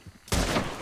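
A single loud gunshot burst in Red Dead Redemption 2 cracks in abruptly after a brief quiet moment and decays with a short rumbling tail.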